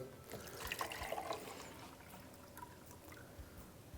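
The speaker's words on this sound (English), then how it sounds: "We're going to fill that about halfway with water." Tap water pours steadily into a milk carafe, a soft continuous splashing and trickling that stays fairly quiet and close throughout.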